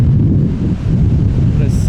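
Wind buffets the microphone outdoors in mild sixties-degree weather, a loud continuous low rumble and rush with gusty swells, steady throughout.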